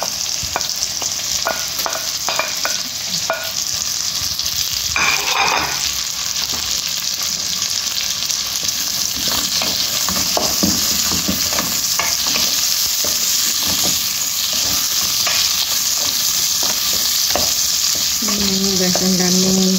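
Onions sautéing in a pan for squid adobo, a dense, continuous sizzle close by, with scattered stirring clicks and a short metallic clank near the end.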